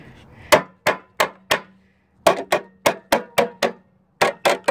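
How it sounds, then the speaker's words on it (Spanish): A hand hammer strikes a bent car fender on a 2011 Nissan Altima 2.5 to straighten it, giving sharp metallic blows, four spaced hits then a quicker run of about nine close, loud strikes with no talk. "Para eso puedo usar el martillo, o con un martillo, digo, con un marrito."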